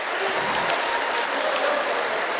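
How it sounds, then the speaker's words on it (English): Loud, steady applause and crowd noise from the student section at a high school boys varsity basketball game in a gym, filling the whole stretch without a break. "It's applause from the student section, as there should be."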